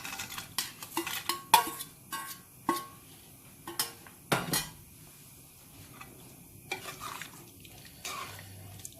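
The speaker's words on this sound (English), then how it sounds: "Give that a nice stir." A spoon stirs a thick broad beans curry in a metal pot for bunny chow, making a series of sharp clinks and scrapes in irregular bursts with quiet gaps between them.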